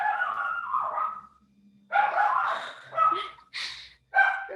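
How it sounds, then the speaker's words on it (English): A dog barks in excited bursts, a few close, sharp yips and barks separated by brief pauses, loud and alone without talk. "And now my dog's going crazy."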